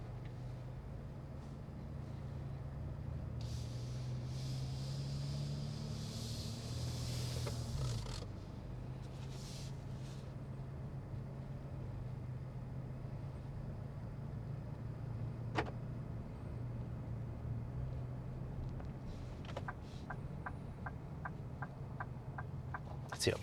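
Inside a Lincoln Navigator Reserve on a summer evening drive, a steady low road and engine hum fills the cabin, with occasional clicks and a faint rapid ticking near the end, and no talking.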